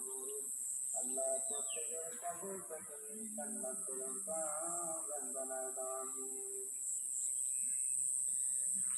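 Several birds chirp and call in overlapping bursts in the early morning in a village, with a steady high hiss running underneath throughout.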